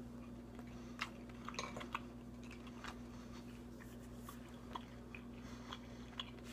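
Someone bites into and chews crispy Jack Link's turkey jerky, producing faint, irregular crunches and chewing sounds close up over a low steady hum, with no talking.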